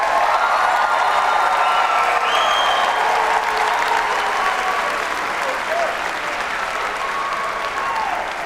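Sustained, dense applause from a large audience at a university spring commencement ceremony, honoring the engineering and computer science graduates, steady and loud throughout with some scattered cheering mixed in.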